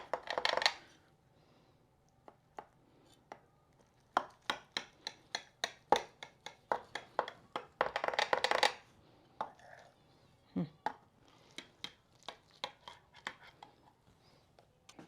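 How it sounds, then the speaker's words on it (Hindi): Knife cutting homemade lasagna into square pieces in a pan, heard as a series of sharp taps and scrapes against the dish, some in quick clusters, fairly close with no talk. "अब इसके बस इस तरह का स्क्वायर टाइप पीसेस आपने काटनी है।"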